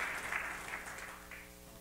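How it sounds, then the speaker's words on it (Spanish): A church congregation claps for the Lord during a service, a brief, muffled stretch of applause that stays fairly faint and steady. "Dele fuerte el aplauso al Señor."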